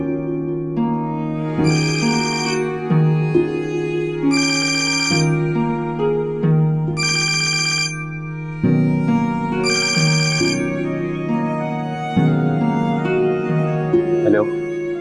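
A telephone ringtone plays a loud, bright melodic tune that repeats in bursts over about fifteen seconds, close and alone with no talking.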